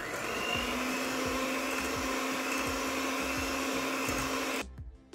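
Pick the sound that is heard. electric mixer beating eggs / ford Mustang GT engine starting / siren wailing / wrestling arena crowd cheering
electric mixer beating eggs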